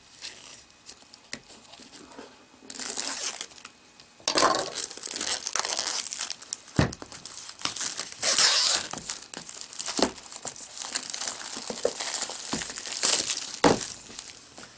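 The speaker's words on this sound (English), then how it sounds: "get my trusty cutter out, and get the plastic off of this" Plastic wrap on a black 16GB WiFi iPad 2 box is sliced with a cutter and peeled away, giving close, loud crinkling and tearing in irregular bursts with sharp snaps, and no talking.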